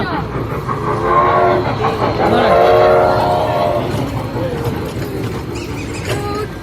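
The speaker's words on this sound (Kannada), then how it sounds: "ಟ್ರೈನ್ ನೋಡ್ರಿ." A train rumbles past close by in Orlando, Florida, with a steady, heavy roar that swells in the middle, and voices can be heard faintly in the background.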